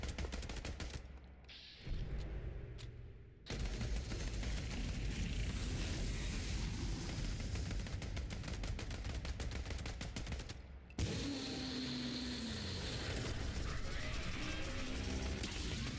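Dense, continuous assault rifle fire rattles through a video game with rapid automatic bursts, separated by brief gaps and mechanical reload clicks, loud and sustained throughout.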